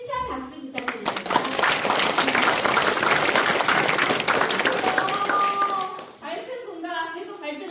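An audience at a Daegu Dalseong-gun public forum claps loudly in sustained applause that starts abruptly and runs several seconds before tapering off, with a voice speaking briefly before and after.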